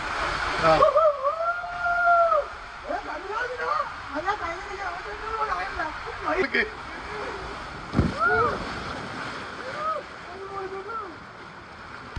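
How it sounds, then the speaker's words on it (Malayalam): Waves roll and splash through a wave pool at the Atlantis Aquaventure water park, forming a steady watery wash. Voices talk over it throughout, with occasional louder splashes. "നമ്മളാ റൈഡ് നേരെ ഇറങ്ങി വന്നത് ഇതുപോലൊരു വേവ് പൂളിലേക്കാണ് കേട്ടോ."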